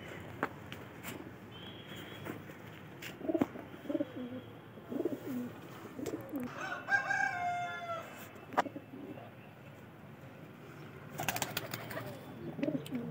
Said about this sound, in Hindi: तो भाई दोस्तों भी हमने सारे कबूतर खोल दिया अपने अपने